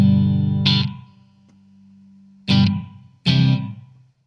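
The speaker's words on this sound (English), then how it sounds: "A small room reverb" Electric guitar chords through a Blackstar ID:Core V3 amp ring out with a short, tight small-room reverb, three strums in all, each decaying quickly.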